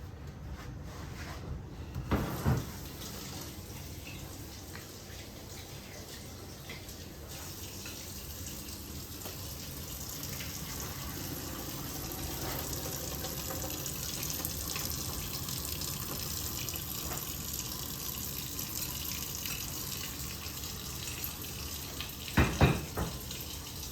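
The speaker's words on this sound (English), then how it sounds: "gonna drain some of this water, so bear with me." Water from a cooking pot of thickening food being drained into a kitchen sink, a steady pouring rush that runs continuously with a few clatters of the pot near the start and end.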